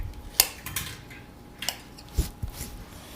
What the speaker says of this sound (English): you're going to crack 3 eggs and add those into the mix